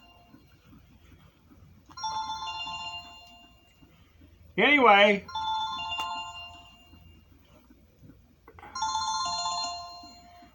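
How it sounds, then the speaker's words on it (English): A phone ringtone plays in short melodic bursts, repeating a few times with pauses between, close and clear, while someone speaks briefly in the middle. "well, I just got a phone call."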